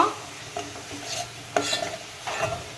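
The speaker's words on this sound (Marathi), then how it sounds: "आता हे मसालेसुद्धा आपण यामध्ये चांगल्या प्रकारे मिक्स करून घेऊया" Agri masala is stirred into a crab curry in a pan: a few scraping strokes of a spoon over a faint, steady sizzle, close and fairly quiet.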